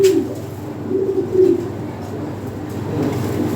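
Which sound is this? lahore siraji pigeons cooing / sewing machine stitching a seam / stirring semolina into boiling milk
lahore siraji pigeons cooing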